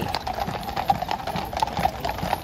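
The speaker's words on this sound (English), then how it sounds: "you were able to see the horses riding back" Horses' hooves clip-clop on a short stretch of road in London, a quick, irregular run of light hoof strikes at moderate distance with faint background noise.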